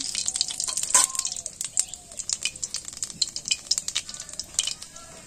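Onion-garlic paste and spices, including nigella seeds, fry in a pan, with a steady close sizzle under repeated scraping stirs of a utensil.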